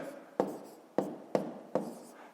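A pen writes numbers by hand on paper during a fifth-grade column-addition exercise, with four distinct scratchy strokes, each starting sharply and then fading, heard close and alone.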